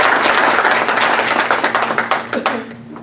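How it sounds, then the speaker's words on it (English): Audience at a Boston, New York town board meeting applauds steadily for about three seconds, a dense patter of clapping that thins toward the end, with faint voices underneath. "How about a round of applause?"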